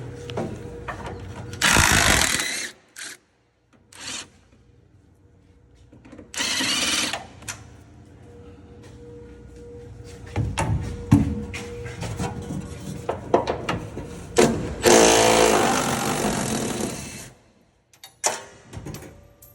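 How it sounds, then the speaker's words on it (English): A ratchet fitted with an 18 mm swivel socket works loose the bed bolts on a 2024 Chevy Stepside pickup, giving short bursts of clicking and rattling separated by pauses, with occasional clanks of the tool. "Bed bolts. I use 18 millimeter. That's what all of them are, with a swivel socket, so you can get them all."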